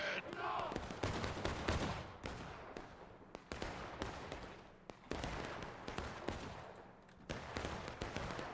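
Gunfire in a Civil War battle game on Crecy's Cornfield: dense, continuous musket volleys crackle in rapid overlapping bursts, with close shots and a distant fusillade behind them, and faint voices sit beneath.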